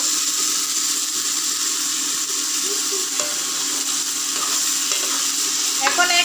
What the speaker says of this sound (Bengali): সিদ্ধ হয়ে গেছে প্রায়, সরিয়ে নেড়ে দেব।